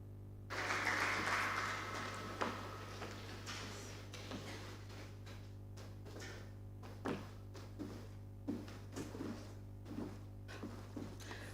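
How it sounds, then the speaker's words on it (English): Audience applause at a Renewed Hope Initiative agriculture and food security programme winner announcement swells loudly for a moment, then thins into scattered claps over a steady low electrical hum. "Please, a round of applause for her."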